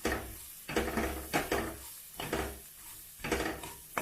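Turmeric, egg masala and kasuri methi being stirred in a pan for Saoji-style egg curry, the spoon scraping and clinking against metal in a steady rhythm of close, repeated strokes.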